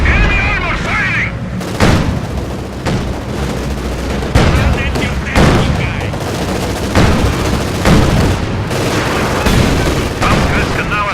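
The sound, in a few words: enemy armor firing in Company of Heroes 2 video game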